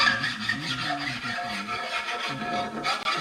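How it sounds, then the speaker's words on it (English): A hand file rasps back and forth across the metal edges of a custom RotoPax mount for a KTM 790 Adventure R motorcycle to remove burrs. The strokes are steady and close, with no talk. "A little hand filing on the edges."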